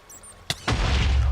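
A creeper blows up in Minecraft: a short sharp crack followed a moment later by a loud, sustained rumbling explosion that fills the rest of the moment, with no talking.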